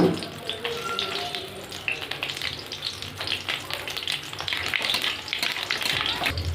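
Black cumin seeds crackle and sizzle in hot oil with a steady, bright hiss punctuated by small pops, close by.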